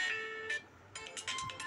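A ringtone previewed on a Realme C21Y smartphone plays as short, bright electronic tones in quick bursts with brief gaps, moderately loud and close.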